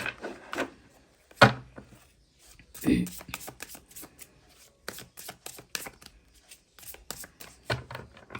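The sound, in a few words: shuffling and drawing tarot cards from a deck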